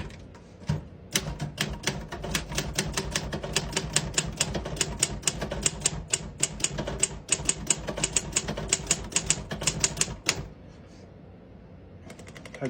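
A 1971 Royal 470 manual typewriter types a sentence in a fast, steady run of sharp, loud key strikes that stops abruptly after about ten seconds, close up with no talk.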